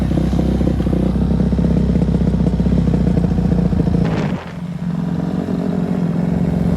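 A Kawasaki KX250F dirt bike with a carburetor issue being ridden, its engine droning loud and close with steady clattering rumble, then briefly dropping off around the four-second mark before picking back up.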